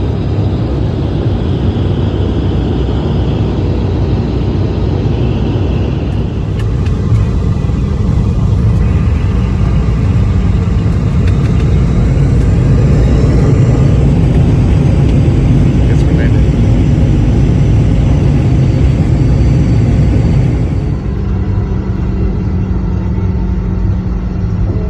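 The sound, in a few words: airplane landing near the hospital in Waianae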